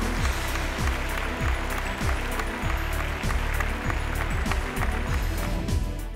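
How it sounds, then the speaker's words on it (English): An audience claps through a hall at the ET Best Healthcare Brands 2019 awards ceremony, a continuous loud ovation with a rhythmic low thumping running beneath it. "Ladies and gentlemen, a round of applause for Fusion Healthcare."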